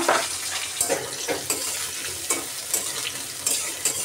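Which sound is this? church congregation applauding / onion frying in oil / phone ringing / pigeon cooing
onion frying in oil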